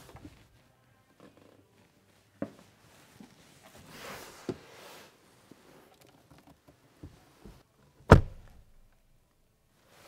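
A 2023 Mercedes EQS SUV door without soft-close shuts once with a solid, close-up thunk, after several seconds of faint handling rustles and small knocks.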